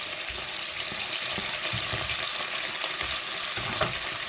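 Garlic and onions fry in a pan with a continuous crackling sizzle. Soft, uneven stirring knocks sit beneath the hiss.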